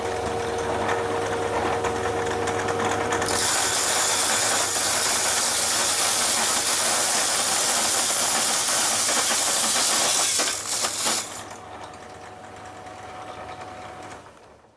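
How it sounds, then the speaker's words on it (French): Pillar drill boring a hole through a beehive cover frame: a motor hum builds into a loud, steady high-pitched grinding hiss for several seconds, then cuts off and winds down to a quieter whir. "J'ai fixé mon ensemble sur le plateau de la perceuse à colonne et je vais donc faire mon trou."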